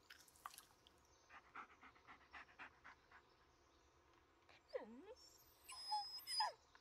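A dog panting in the Blair Witch video game, quick soft breathy pants in a rhythmic run followed by a few whimpery yips and light game sounds, fairly quiet overall.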